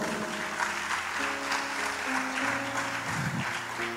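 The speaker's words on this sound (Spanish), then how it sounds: "Yo te invito a que le des un fuerte aplauso a Cristo" A church congregation applauds for Christ at a Spanish-language youth discipleship service, a steady moderate wash of clapping lasting the whole stretch, with a low sustained musical tone and faint murmuring underneath.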